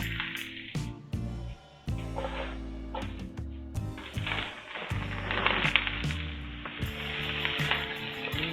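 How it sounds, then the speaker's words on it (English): Onions and zucchini hit a tablespoon of hot grapeseed oil in a preheated pan and crackle in a loud, steady sizzle, with scattered pops and a few clinks and scrapes of stirring over it. "Now we're going to add our onions and our zucchini."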